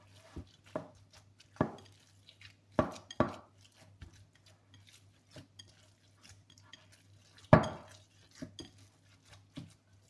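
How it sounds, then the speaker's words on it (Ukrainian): Minced meat seasoned with pepper and salt is worked in a bowl for a shtrudli filling. Scattered knocks and clatters of a utensil against the bowl come at irregular intervals over a quiet background, with no talking. "Добре вимішую той фарш."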